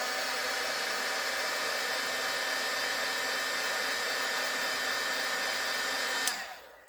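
A heat tool warming plastic packaging for faux metal tags: a steady, loud blowing roar runs unbroken for about six seconds, then cuts off abruptly and fades away.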